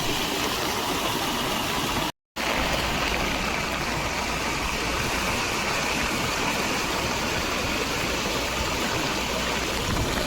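Fast-moving floodwater rushes loudly and continuously over submerged rice fields after heavy rain, a broad churning roar with a brief gap early on, no voices heard.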